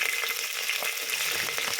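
Green chillies and onion frying in hot oil for a biryani, a steady close crackling sizzle with scattered spits and pops throughout, no voices.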